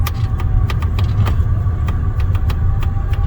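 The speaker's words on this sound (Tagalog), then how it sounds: "Traffic." Steady rumble of road traffic heard from inside a car, with engine and tire noise filling the background and faint clicks and rattles scattered through it, no voices.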